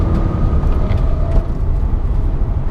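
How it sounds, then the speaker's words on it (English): A 2016 Honda Civic Touring accelerating at full throttle, its engine holding a steady drone with road and wind noise heard from inside the cabin; no talking. "Full throttle. It accelerates, and then it just stays at 6 grand."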